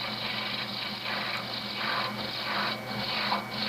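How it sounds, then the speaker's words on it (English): A roughing gouge cuts a Windsor chair leg spinning on a wood lathe, a steady close hissing scrape that swells and eases in rhythmic passes as the tool moves along the blank. "now it's time for my rough and gouge, and I'm going to go in and as quickly as I can establish these major shapes"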